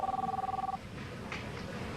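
A cell phone ringing with a rapid warbling electronic tone for under a second, then stopping, leaving faint room noise.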